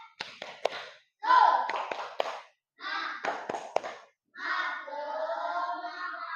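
A classroom of students performs the rhythmic 'tepuk semangat' clapping chant, sharp hand claps in a patterned beat mixed with voices chanting along in short bursts, lively and close.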